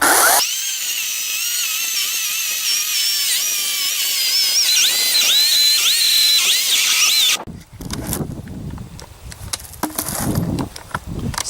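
Ryobi 40-volt battery chainsaw cutting through a log: a loud, steady high-pitched motor whine for about seven seconds, then it stops abruptly, leaving quieter rustling and handling noises.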